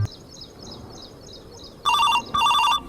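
Telephone ringback tone on an outgoing call, heard as two loud, distinct ring bursts near the end, after a faint repeating chirpy tone.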